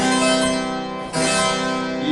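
Harpsichord playing with the 8-foot and 4-foot string sets combined, bright, dense sustained chords with a brief dip before a fresh attack near the middle, close and fairly loud, no talking.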